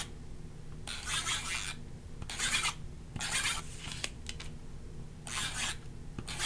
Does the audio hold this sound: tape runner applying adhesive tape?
yes